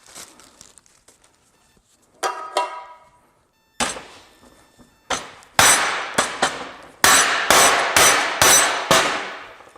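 A hammer drives a bushing home during a ball joint install, with a few scattered light taps followed by a run of loud, sharp metallic strikes that come faster and more steadily toward the end.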